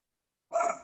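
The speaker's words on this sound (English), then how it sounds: "Sorry about the dogs." A single short dog bark, fairly faint and clipped, bursting out after a moment of silence in a home setting.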